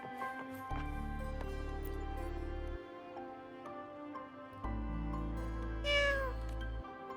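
In the video game Wuthering Waves, Malma the cat gives a bright meow near the end over layered in-game music with low sustained chords, heard alone without any voices.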